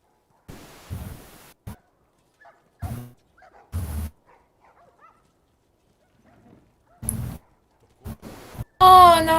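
Dogs in The Last of Us video game bark and whimper in short separate bursts spread across quiet stretches, with one louder, sharper yelp near the end.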